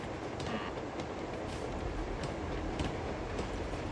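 Train from the video game Uncharted 2 rumbles steadily with a constant broad roar and faint rhythmic clatter of wheels, sustained throughout at an even loudness.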